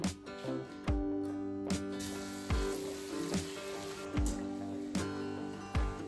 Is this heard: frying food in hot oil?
yes